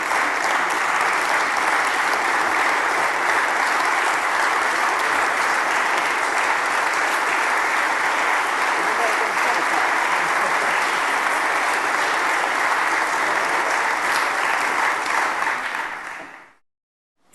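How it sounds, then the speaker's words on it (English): An audience in the Texas House applauds in sustained, even clapping that fills the room at a steady level before cutting off abruptly at the end. "I'm going to ask you to join me in applauding him"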